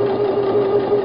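A sewing machine top stitching a tote bag at a 3.5 stitch length, running as a steady, loud, close mechanical whir with an even hum throughout.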